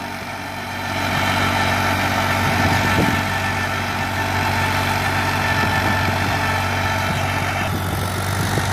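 A New Holland 3630 tractor engine runs in a steady, close diesel drone with a low throb, rising a little after the first second and then holding even.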